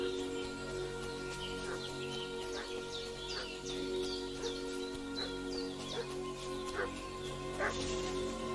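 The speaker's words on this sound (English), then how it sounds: "What's that dog making such a fuss about?" A dog in Kingdom Come: Deliverance 2 barks repeatedly in short irregular bursts over a steady ambient bed, moderately near and not very loud.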